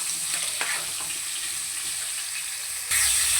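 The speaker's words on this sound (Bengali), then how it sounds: "আলুটাকে একটু হালকা লাল করে ভেজে নেব।" Potatoes cut for cauliflower curry fry in hot oil with spices, a steady close sizzle with stirring scrapes throughout and a sharper burst of sizzling near the end.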